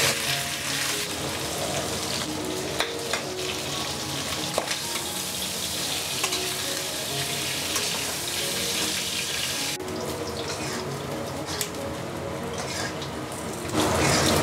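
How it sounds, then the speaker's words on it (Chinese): Pork belly frying in oil in a wok, a loud continuous sizzle with scraping stirs of the spatula throughout, close up and without talk. "把五花肉呢放进来煸香"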